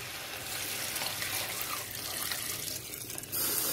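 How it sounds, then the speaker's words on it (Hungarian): Water pours steadily from a tap into a pot of potatoes being cooked for a sour-cream potato stew, a continuous close splashing rush that grows a little louder near the end. "Most felöntöm vízzel."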